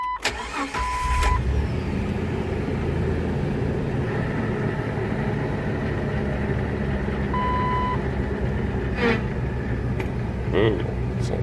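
A Jeep TJ engine fires up and settles into a steady, fairly loud idle, with a few short beeps and clicks on top and no clear talk.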